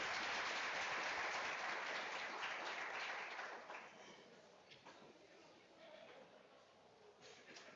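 Conference audience applauding a speaker's introduction, a soft, distant wash of many hands clapping that fades after a few seconds into quieter scattered claps and room noise.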